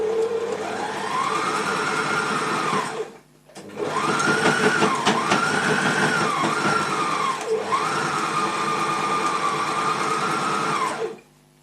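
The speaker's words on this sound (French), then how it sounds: "C'est pas normal qu'une machine neuve fasse des bruits de bête à l'agonie." A new sewing machine stitches under strain in three long, loud motor runs with brief pauses between, its whining drone rising and wavering like a labouring, groaning motor.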